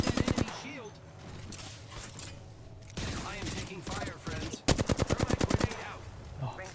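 Rapid automatic gunfire from a battle royale video game, delivered in several quick bursts of sharp, loud shots with brief pauses between them, backed by busy game effects.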